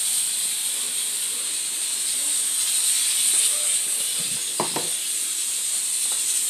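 A pot of beans cooks on a home stove, releasing a steady, bright steam hiss that stays continuous throughout, with a few faint clatters near the end.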